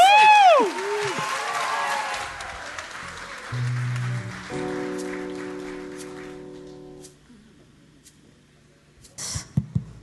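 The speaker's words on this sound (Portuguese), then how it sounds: "Nos dá grande aplauso para Swelly." Audience at a singing competition event in Holland applauds after a host's voice, the clapping fading as a sustained musical chord comes in and then thins to quiet, with brief sounds near the end.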